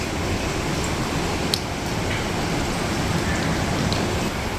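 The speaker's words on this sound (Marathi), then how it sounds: "पाऊस अजून सुद्धा चालू आहे" Steady rain falls on a rooftop terrace, a dense, even hiss of drops that continues unbroken, with a single sharp drip or tap standing out briefly partway through.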